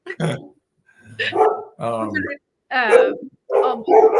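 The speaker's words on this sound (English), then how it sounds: "are you hearing my dogs barking right now?" Several dogs bark in short bursts at close range, with pauses in between and a few higher yips.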